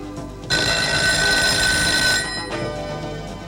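A telephone rings in a Turkish film scene, a loud sustained electronic ring tone that starts abruptly and runs for about two seconds before cutting off, alone with no talk.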